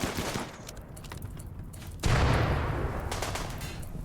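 Gunfire breaks out during a wave survival fight on a tomb world colony, a sharp burst arriving after a quieter stretch and then thinning into a noisy, fading rattle.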